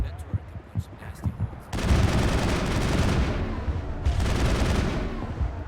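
Turret gunfire in the video game Mass Effect comes as two long, loud rattling bursts, each several seconds of dense broadband fire, with softer thuds and game noise between them.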